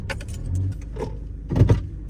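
A car pulling into a parking spot on a street lined with parked cars, giving a low engine rumble with a couple of brief clunks and a jangle of keys near the end.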